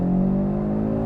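A 2.5-liter five-cylinder engine in an Audi RS3 holds a loud, steady growling drone, a brief sustained rev heard up close.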